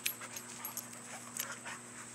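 Dogs panting and giving soft whimpers, close by, with small yips over a steady background hum.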